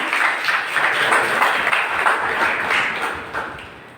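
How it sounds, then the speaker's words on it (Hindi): A hall audience at a college poetry recitation gathering applauds a student who has just sung a Saraswati invocation, many hands clapping in a dense, steady wash that tapers slightly near the end. "इस बच्चे के लिए दोबारा ताली बजा दीजिए"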